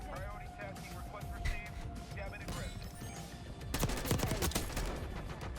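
Rapid gunfire in Black Ops 6 multiplayer, with scattered shots early and a heavier, louder volley of bursts toward the end, under a player talking.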